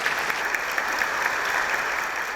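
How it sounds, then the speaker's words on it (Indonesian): Audience applause fills an indoor stage event as a student is welcomed up, a steady, dense clapping throughout, moderately loud with no voices over it. "kita berikan aplaus untuk Bunga"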